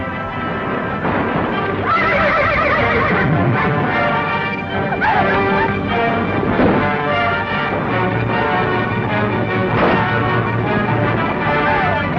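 Horses neigh and whinny loudly and repeatedly over clattering hooves, a dense, close, continuous commotion.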